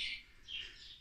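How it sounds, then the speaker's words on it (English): Nesting birds give two short, harsh squawking calls inside a barn on a campsite, faint and set back in a quiet space. "And an awful lot of nesting birds in here."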